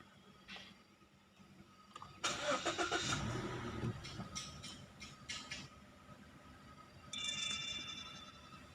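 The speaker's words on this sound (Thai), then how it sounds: "สตาร์ทเครื่อง แล้วนะครับ" A car engine cranks and catches at close range, then settles into a steady idle with the check-engine light on, with a few higher mechanical whines and clicks over the running motor.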